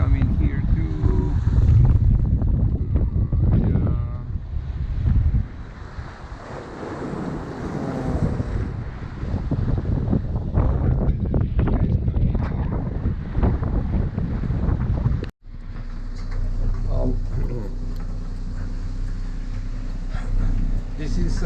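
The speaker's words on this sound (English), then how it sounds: "coming, and the big waves coming here too." Out on the open ocean between Gibraltar and Morocco, a sailboat rides big waves while wind buffets the microphone in a heavy, rushing roar, with a voice talking over it and a sharp break near the end.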